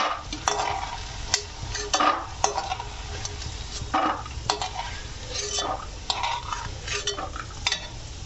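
Chickpeas roast in a pan for jaggery laddus, with a soft, steady sizzle under repeated scraping and clinking strokes of a spoon stirring against the metal, close but fairly quiet.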